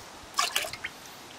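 Milky termiticide mix of fipronil concentrate and water pours into a bucket in a short burst of splashing drips lasting under a second, close and fairly quiet, with no talk.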